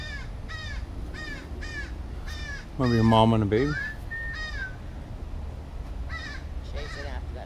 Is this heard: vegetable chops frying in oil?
no